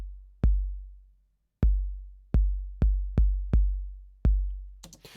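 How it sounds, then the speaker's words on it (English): A programmed bass drum pattern plays back in a DAW, with seven deep, booming kicks in an uneven syncopated rhythm, each decaying smoothly, followed by a brief scrape of noise at the end. "I'm going to start with the bass drum, which is playing on note C1"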